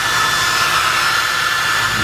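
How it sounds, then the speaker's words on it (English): A hair dryer runs steadily at close range, a continuous loud airy whoosh with a motor hum beneath, unbroken for the whole stretch with no talking. "I've been using the hair dryer."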